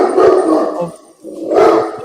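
A dog barks and howls loudly nearby in two sustained bursts separated by a brief lull, its voice wavering and drawn out.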